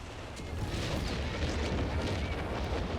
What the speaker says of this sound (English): What a bombing strike.